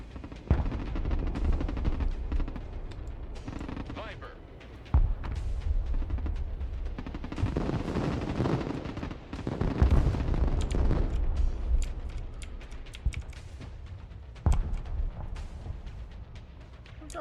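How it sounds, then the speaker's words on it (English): Artillery and heavy gunfire in the military strategy video game Broken Arrow: repeated booming blasts and rattling bursts, loud and dense, with sharp impacts landing every few seconds over a continuous rumble of battle. "more artillery coming from somewhere"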